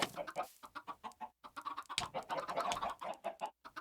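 Chickens in the farming video game Slice of Pi 2 cluck in rapid, repeated bursts, a busy flock of short squawks close by, with no voices in between.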